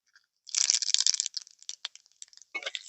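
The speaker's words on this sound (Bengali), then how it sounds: "ফোড়নে দিয়ে দেবো দুটো শুকনো লঙ্কা, দিয়ে দিচ্ছি অল্প একটু পাঁচ ফোড়ন।" Dried red chillies and panch phoron sizzle in hot mustard oil in a kadai, giving close, sharp crackles and pops that burst at once, thin out, then flare again near the end.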